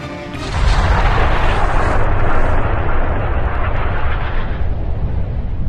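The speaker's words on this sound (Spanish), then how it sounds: "El cañón detonó con un estruendo ensordecedor." A cannon fires with a deep, deafening blast that swells into a heavy rumbling roar and slowly fades over several seconds, loud and alone with no talking.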